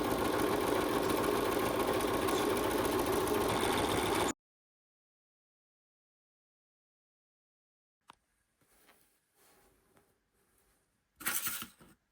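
Sewing machine stitching rag quilt patches runs in a fast, continuous mechanical whir for about four seconds, then stops; faint handling clicks and rustles follow.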